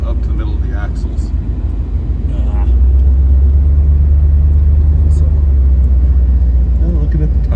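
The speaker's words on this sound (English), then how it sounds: "All this slop we're driving through is about a foot deep." A vehicle churns slowly through foot-deep mud slop reaching the middle of its axles, a heavy, continuous low engine rumble that swells partway through, with someone talking over it.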